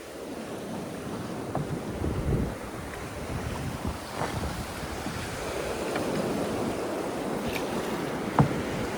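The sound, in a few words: big sea waves hitting a fishing boat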